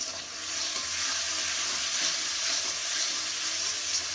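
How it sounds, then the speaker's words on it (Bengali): Ground chilli, turmeric and cumin masala frying in a pan while being stirred: a dense, continuous hiss and crackle, close and even, with faint stirring scrapes and no talking. "এবার মশলাটাকে একটু কষিয়ে নেব।"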